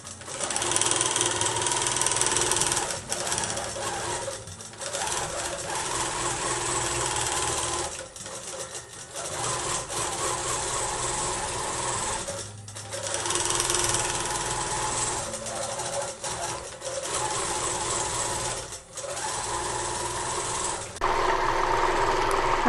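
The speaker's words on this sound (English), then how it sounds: "So now I just need to baste my quilt down and start stitching." A ProStitcher Lite computerized sewing machine stitches through a basted quilt, its steady dense mechanical whir running almost continuously with a few short pauses and restarts.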